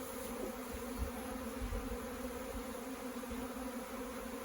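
Bees hum in a steady, dense drone around a newly installed hive package with a small entrance open, close and continuous, the buzzing layered over a low rumble.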